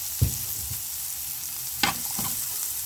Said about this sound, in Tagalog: Guys, igigisa na natin yung sibuyas.